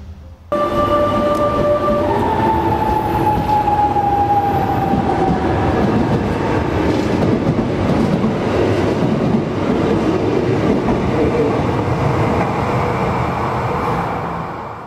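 A train passes close by, a loud, steady rumble of wheels on rails with rising and falling squeal tones, continuing for the whole stretch with no talk.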